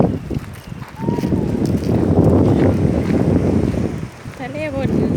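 Strong wind buffets the microphone on the English seaside, a steady loud roar with gusts, while a voice speaks briefly near the end.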